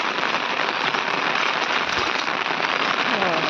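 Steady heavy rain falling in large drops across a village, a dense continuous hiss close by with no breaks or voices.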